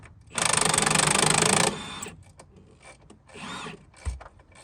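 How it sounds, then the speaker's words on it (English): An impact wrench turns a 16mm triple square axle bolt during an Audi Q5 rear wheel bearing job, one loud rattling burst of over a second, then quieter mechanical clicks and a thud nearby. "I'm just gonna hold this side, and I'm gonna put my impact on this side over here."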